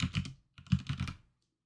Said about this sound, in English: typing in the desired table name and clicking Create New Table